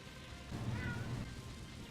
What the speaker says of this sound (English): My cat always likes to come into the room and yell whenever she's about to eat food.